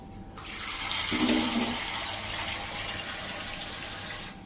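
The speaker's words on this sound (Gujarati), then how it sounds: "પાણી રેતી માથે છટકોરી દેવાનું છે આવી રીતે" Water sprinkled by hand onto coarse sand packed in a clay pot, a steady close hiss of splashing water that runs continuously for several seconds before stopping abruptly.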